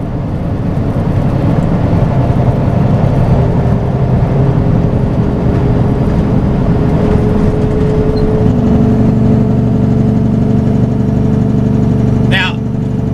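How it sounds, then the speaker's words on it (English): A semi truck on a canyon highway drops a gear and its engine holds a loud, steady diesel drone with rising revs, a constant close rumble throughout, and someone talks over it. "So we're gonna drop a gear, bring our RPMs up a little bit so the Jake brake will"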